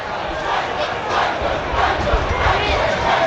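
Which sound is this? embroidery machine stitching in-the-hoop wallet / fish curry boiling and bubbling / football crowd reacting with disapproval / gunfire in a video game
football crowd reacting with disapproval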